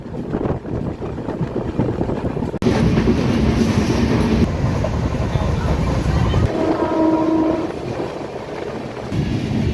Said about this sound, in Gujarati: મિત્રો તમે જોઈ શકો છો આપણી ટ્રેન રિવર્સમાં આવી રહી છે.